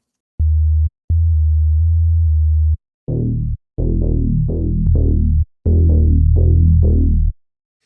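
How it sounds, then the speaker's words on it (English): Sine wave sub bass synth patch from Serum 2, deep smooth tones in a rhythmic sequence of short and sustained notes with brief gaps, loud and alone. "I just have the sine wave sub"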